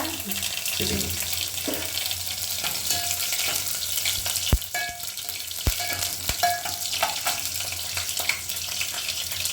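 Steady sizzling of something frying in oil, with a few sharp clinks of a utensil against the pan and faint running water in the background.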